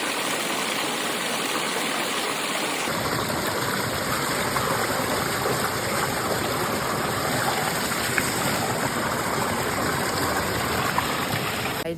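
Water pouring and gushing at a Bali water purification ceremony, a loud, continuous rushing flow that fills the whole stretch without pause.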